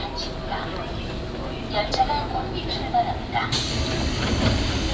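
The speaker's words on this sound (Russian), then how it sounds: "Пусанское метро" A Busan subway train running, with a steady rumbling rail and wheel roar throughout, a few faint clicks and squeals on top, and a sharp rise in hiss near the end. A voice speaks briefly over the noise.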